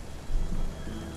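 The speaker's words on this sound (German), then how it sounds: "Vor allem bei dem Regen hier." Rain and thunder in the video game Spiritfarer form a steady hiss of rainfall under a brief low rumble of thunder that swells and fades within about a second.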